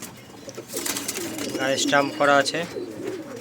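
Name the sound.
pigeons cooing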